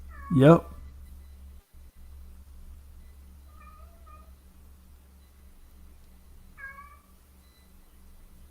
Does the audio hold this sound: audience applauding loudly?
no